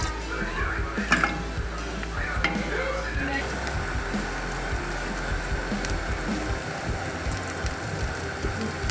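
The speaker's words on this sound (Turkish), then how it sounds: "şerbetimizi de ekliyoruz" Syrup is poured into a pan of cheese halva and stirred, giving a steady sizzling, bubbling texture with a few spoon scrapes and clinks near the start.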